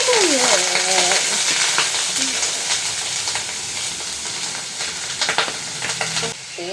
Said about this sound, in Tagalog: oil ang gamit. Ito na magprito-prito